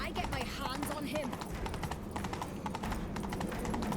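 A horse galloping in the video game The Witcher 3, with steady rapid hoofbeats running throughout a busy game soundtrack and other sounds mixed in.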